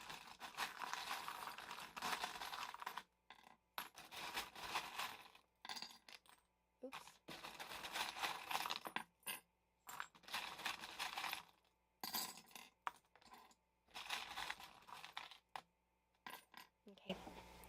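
Small metal charms are rattled and handled close up in repeated bursts of light jingling and clinking, broken by short silent gaps, with faint speech at times.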